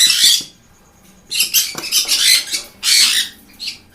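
Conure parrots in an aviary give loud, harsh squawks in several close bursts, with short quiet gaps and faint clinks between calls.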